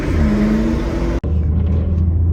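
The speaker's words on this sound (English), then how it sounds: "I hear the motors, man" Dodge Hellcat engines roaring on a highway, a loud steady rumble that cuts off abruptly midway, then a lower droning engine hum continues, heard close from inside a following car.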